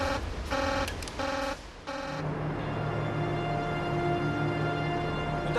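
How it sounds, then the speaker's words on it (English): An electronic alarm in a nuclear power plant control room sounds several short repeated beeping bursts, then a continuous droning tone, loud and alone. "8 minutes to 1. Another alarm."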